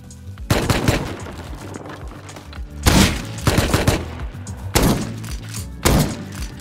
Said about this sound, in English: He's shooting our base.